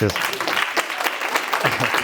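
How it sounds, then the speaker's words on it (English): Audience applause after a talk, a steady wash of clapping filling the whole two seconds, fairly loud and close, with no speech over it. "Round of applause for Stephen again, please."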